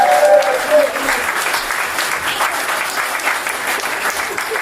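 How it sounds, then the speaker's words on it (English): An audience at a Tesla event applauds for Andre, loud dense clapping that holds steady from start to finish, with a voice briefly heard over the start of it. "Oh, big applause Andre."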